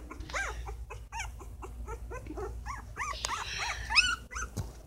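A young puppy whimpers and cries in close-up, a run of repeated high, wavering whines in irregular bursts, near and fairly clear over a low background rumble.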